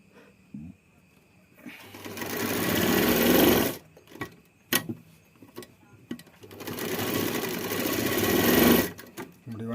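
Sewing machine stitching a blouse runs in two long, steady bursts of motor whir and needle chatter, separated by a pause filled with a few sharp clicks and handling knocks, close up.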